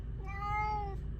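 Salem the pet cat gives a single drawn-out meow, rising then falling over about a second, heard fairly close against a low background hum with no talk.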